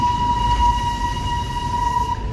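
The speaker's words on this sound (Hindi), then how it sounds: "यूनेस्को वर्ल्ड हेरिटेज ये नैरोगेज रेलवे सेवा या टॉय ट्रेन" Darjeeling's narrow-gauge toy train, a UNESCO World Heritage hill railway, gives a steady, loud tonal whistle or horn held throughout over rumbling low running noise, with no talking.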